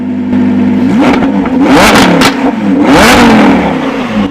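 A Lamborghini fitted with a Ryft exhaust revs hard, throttle blips rising and falling in a few loud, close surges with a raspy, droning tone and no talking.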